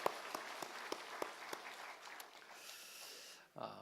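A church congregation applauding during a Sunday morning service, a soft, steady patter of many hands with a few sharper claps, heard at a distance and fairly quiet.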